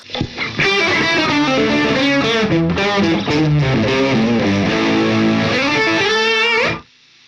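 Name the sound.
electric guitar, Amplitube 5 jazz fusion tone preset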